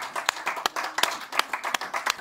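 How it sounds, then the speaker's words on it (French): Scattered hand claps from a church congregation, roughly a dozen sharp claps at an uneven rhythm, fairly close and moderately loud, with no clear cheering voices. "Nous voulons entendre les acclamations encore."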